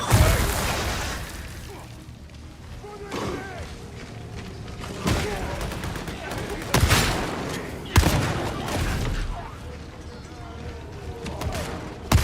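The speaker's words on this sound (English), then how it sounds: "Good explosion, good explosion." Explosions and gunfire in the video game Warhammer 40,000: Darktide: repeated sharp booms and bursts land every few seconds over a busy, dense background of game noise, with a voice talking over the action.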